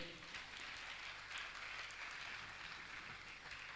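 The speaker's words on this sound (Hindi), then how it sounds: "मैं चाहूंगा आप जोरदार ताली बजाकर इनका सम्मान करें।" An audience clapping to honour guests at a Jain religious gathering, a faint, continuous patter of many hands heard from a distance with no voices over it.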